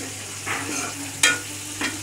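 Onions fry in a pan on a stove, giving a steady close sizzle, with a few brief scraping stirs of a utensil in the pan.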